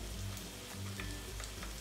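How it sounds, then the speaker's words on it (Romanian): Small spoon-dropped doughnuts fry in hot oil, a faint, continuous crackling sizzle with scattered pops over a low background rumble. "ne cam apropiem de terminat de prăjit gogoșelele noastre"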